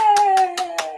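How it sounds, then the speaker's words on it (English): Hands clapping five times in a quick, even rhythm, close and fairly loud over a steady tonal hum. "Round of applause"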